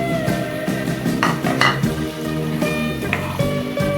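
Fried paneer is stirred into a sizzling, well-roasted gravy in a pan for shahi paneer, with a spoon scraping and clinking against the pan over a steady frying hiss, close and fairly loud, with no voices.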